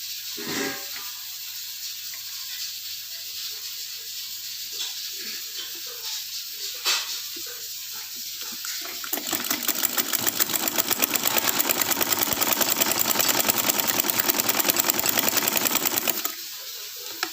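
A sewing machine stitching an anchor thread design onto a kurti, starting with a quiet hiss and faint taps, then a loud, fast, even mechanical whirring run for about seven seconds before it stops.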